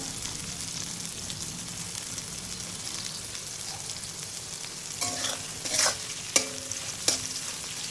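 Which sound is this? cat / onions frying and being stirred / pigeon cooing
onions frying and being stirred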